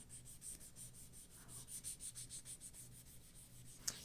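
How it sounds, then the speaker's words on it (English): Wadded paper rubs colored pencil into a greyscale rose coloring page in a steady series of soft, rhythmic scrubbing strokes, faint and close, with no talking. "All I'm doing is rubbing."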